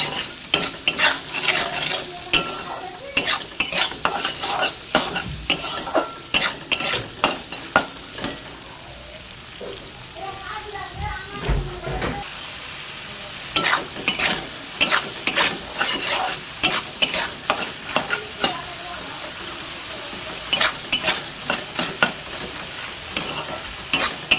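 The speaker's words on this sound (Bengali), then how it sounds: "ভালো করে কাঁঠালের বিচনগুলোকে আমি ভেজে নেব।" Jackfruit seeds fry in a pan with turmeric and chilli powder, a steady close sizzle broken by repeated sharp scraping stirs of a spatula, with no talk.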